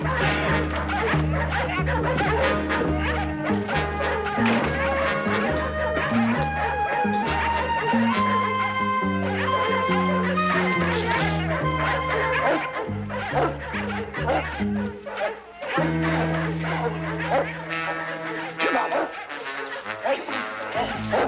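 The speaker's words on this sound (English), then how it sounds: "It sounds like every mutt in town's at it, don't it?" A crowd of town dogs barking together in an old Western drama, the barking mixed under a loud orchestral score that runs throughout.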